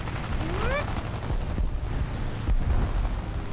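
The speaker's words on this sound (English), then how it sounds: "I hear explosions." Explosions and gunfire in the War Thunder combat game, a sustained rumbling barrage of blasts under a rising whistle-like sweep, loud and continuous.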